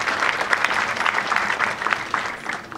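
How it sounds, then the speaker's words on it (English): Steady applause from an outdoor ceremony crowd at the Kings Mountain battlefield anniversary event, many hands clapping in a dense, even patter of moderate loudness lasting the whole stretch. "Let's give Ivan one more round of applause"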